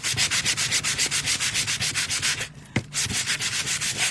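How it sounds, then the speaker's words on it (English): Rhythmic back-and-forth sanding of wood on a DIY winter cabin insert, steady close strokes repeating about five times a second, with a short pause and a single knock before the strokes resume, no voices. "Okay, we're done with the sanding now."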